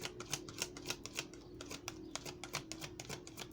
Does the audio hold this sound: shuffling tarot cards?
yes